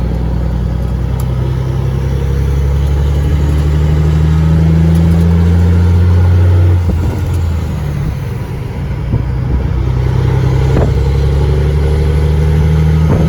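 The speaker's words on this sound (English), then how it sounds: "I just let you listen to the truck for a second there. Cat 30406E." A Cat diesel engine in an owner-operator semi truck drones steadily while driving, a loud, close, low rumble from the cab that holds constant throughout with no talking.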